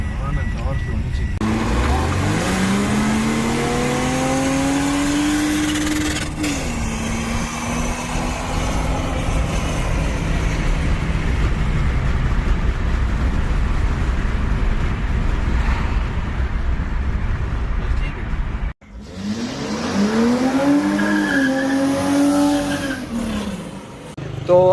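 An underpowered car accelerates hard, its engine revving upward in rising sweeps, then cuts out briefly before a second pull. People talk over the engine.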